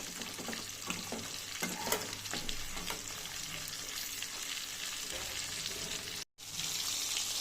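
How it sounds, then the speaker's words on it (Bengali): Fish sizzling in oil in a kadai, a steady broadband crackle with scattered sharper pops and stirring scrapes, loud and close, briefly cutting out near the end before resuming. "আবার শুরু করলাম এতে মাছ ভাজতে"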